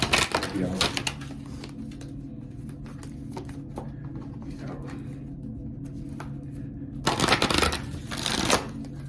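Oracle cards riffled and shuffled indoors in short papery bursts near the start and again toward the end, with a quieter stretch of soft handling between them.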